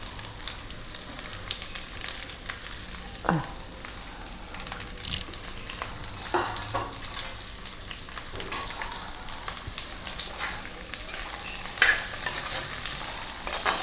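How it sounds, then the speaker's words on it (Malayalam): Sliced onions sauté in a pan with green chillies for a Kerala-style egg and fish dish, giving a continuous moderate sizzle broken by scraping stirs and occasional louder clinks of the spoon, with no talk. "സബോള എന്നിട്ട് വഴണ്ടി വരട്ടെ"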